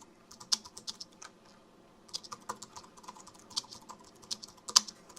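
Quiet, close typing on a computer keyboard, an irregular patter of light key clicks with short pauses, no talk.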